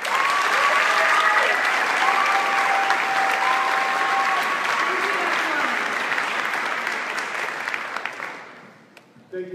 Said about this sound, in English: Please join me in giving JC a round of applause and welcome him to the stage.